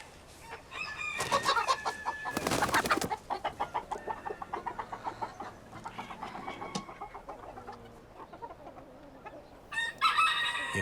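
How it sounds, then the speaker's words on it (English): A bantam Sussex hen and a bantam Sunheimer cock clucking in rapid, rhythmic bursts, with a loud crow near the start and another at the end, close by and with no talking. "he is trying to mate chickens from 2 different breeds, a bantam Sussex hen and a bantam Sunheimer cock"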